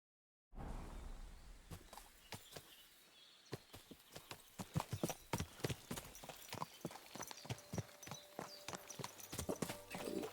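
Horse hooves clip-clop in Kingdom Come: Deliverance II, a steady walking rhythm of crisp close hoofbeats that grows denser and louder as the horse moves along, with no talk.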